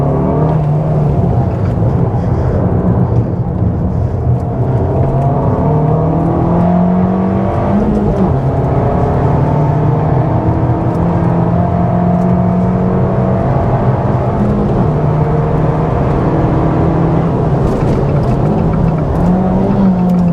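A 2023 Abarth 695 Competizione, 180 hp with a limited-slip differential, accelerates hard on a track, its engine note loud and close throughout and rising and falling in pitch as the throttle is eased in and out. No one speaks.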